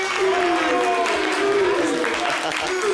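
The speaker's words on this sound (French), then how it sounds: "Les gars, faites du bruit pour lui" A crowd claps and cheers for a prize winner at a prize-giving, a steady wash of applause with voices calling out over it.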